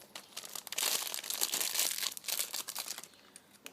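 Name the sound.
opening a plastic bag of piping tips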